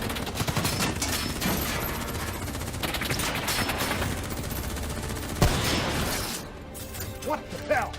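Gunfire rattles through a Black Ops 3 cutscene, sustained bursts and shots loud and close over a dense battle din, with brief voices in the mix and a short crash near the end.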